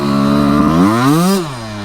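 A Honda CR125 two-stroke dirt bike screaming through its power band in third gear, its pitch climbing steeply before dropping off briefly, loud and close-up.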